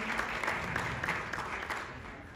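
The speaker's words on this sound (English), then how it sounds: "Give yourselves a round of applause for being such a great group" A crowd at a women's empowerment expo breaks into applause, a dense patter of clapping held at a moderate level throughout, then easing slightly toward the end.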